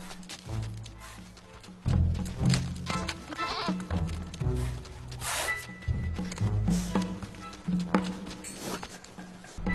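Wild Himalayan bharal (blue sheep) bleat during the mating season, a mix of wavering goat-like calls repeated through a dense outdoor soundscape, fairly close and at moderate level.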